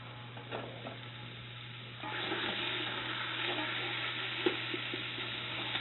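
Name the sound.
pork browning in a pan for green chili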